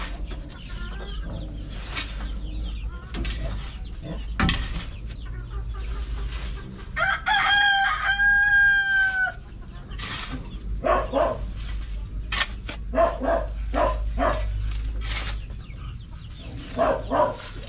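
Chickens cluck and a rooster crows inside a chicken coop, with a dog barking intermittently among the loud, close bird calls.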